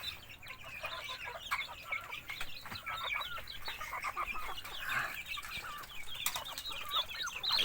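Native chickens cluck and chatter softly nearby in a steady stream of short calls, with occasional wing flaps and faint background rustling.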